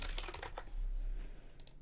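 A name being typed on a computer keyboard: a quick run of soft, close key clicks, fairly quiet, with no voices.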